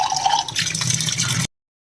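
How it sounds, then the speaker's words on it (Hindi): A small child fills water and pours it over himself while bathing, producing a close, continuous trickling and splashing stream that stops abruptly. "अद्दू पानी भर रहा है और उससे नहा रहा है"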